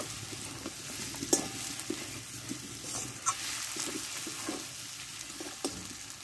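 Potatoes being stirred into fried spice masala in a pan for alur dom, a soft sizzle running under repeated scraping and stirring clatters, no talking.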